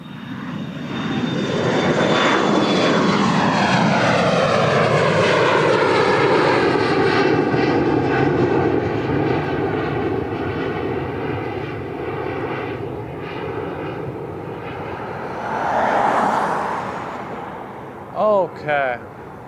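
Fixed-wing airplane taking off at Portland International Airport, Oregon: a loud, sustained engine roar with a falling Doppler sweep as it passes close, then fading, followed by a brief rising whoosh and a couple of short bursts near the end.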